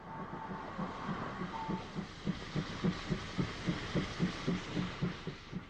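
A steam locomotive on an Irish railway in Donegal in 1958, its steady rhythmic chuffing and wheel beats rolling along at moderate volume without any voices.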